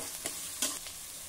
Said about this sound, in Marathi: आणि 2 मध्यम आकाराचे कांदे घालूया। ही फोडणी खमंग झाली की हे भरड देखील खूप खमंग लागतात।